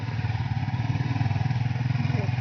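A motorcycle carries riders around the Krakal beach area in Gunung Kidul, its engine a steady, pulsing drone with a rhythmic throb and wind rush throughout.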